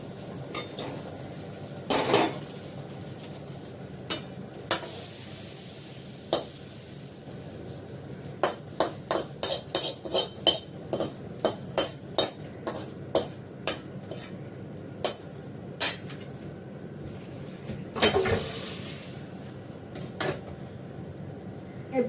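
Metal pots and pans clank and scrape with utensils as chow mein is finished and taken off the stove, a run of sharp clinks and knocks, some in quick succession, over a faint kitchen hum.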